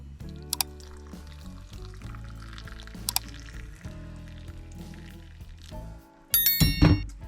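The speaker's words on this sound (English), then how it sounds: "we're gonna add boiling water in here" Boiling water pours steadily into a bowl of cashew nuts for about a second near the end, a brief rushing splash over soft background music.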